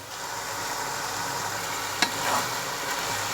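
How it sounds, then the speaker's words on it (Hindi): Chopped tomatoes sizzle and fry with minced meat in a cooking pot, a steady close crackle with a sharp clink of utensil against metal partway through, and no one speaks. "अब टमाटरों को भी कीमे में भूनेंगे हम"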